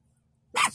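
A dog gives a single sharp bark after near silence, loud and close, cutting in abruptly at the end of a quiet stretch at a low-tide shoreline.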